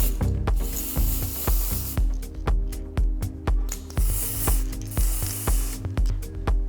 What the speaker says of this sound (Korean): 자, 이게 헤어 컬러 스프레이인데 이거를 뿌리면은 머리가 고정될 뿐만 아니라 머리 색깔도 변화할 수 있어요.